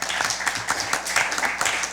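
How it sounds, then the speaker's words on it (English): Audience applause for the Antigua Girls High School team at a junior science quiz, a dense, steady clapping from a crowd filling the whole moment. "Give them a round of applause."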